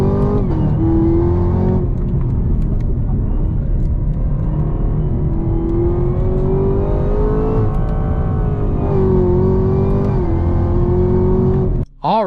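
Chevrolet Camaro ZL1 1LE V8 droning loud and close while driving, a deep steady rumble with the pitch swelling and easing through several gentle rises in revs.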